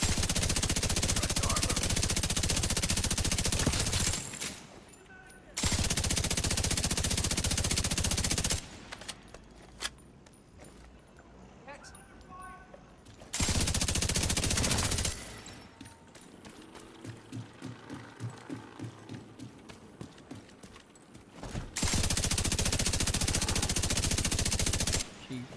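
Long bursts of rapid automatic gunfire in a video game alternate with short quieter gaps. Each burst lasts several seconds, loud and dense, and the pauses carry faint mechanical clicks and low background sound.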